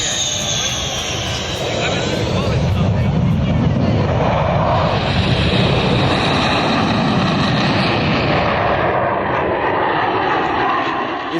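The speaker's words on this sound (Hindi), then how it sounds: "रफाल नामक नवीन आयातित हमलावर विमान को उतार दिया गया।" A Rafale fighter jet roars low over the Purvanchal Expressway, a loud, sustained broadband rumble that swells and holds for roughly ten seconds, heard up close.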